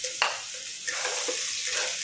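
Garlic frying in oil in a pan for a stir-fry of bean sprouts, tofu and chicken, a steady broadband sizzle with a few scraping stirs of the spatula, close and continuous.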